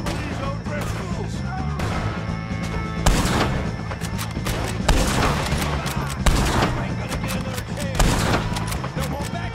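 Dense video-game gunfire in a Wild West shootout against O'Driscoll gang members, with repeated sharp shot bursts layered over a busy background and some voices shouting.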